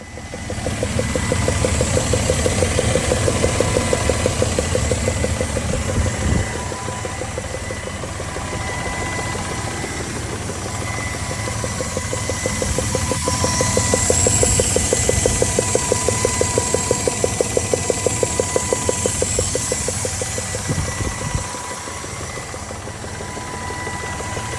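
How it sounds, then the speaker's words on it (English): Toyota Landcruiser engine running with a severe loud knocking fault, a steady rapid rhythmic knock over a continuous mid-pitched engine drone, close and loud throughout. "The car was experiencing like a severe loud knocking noise."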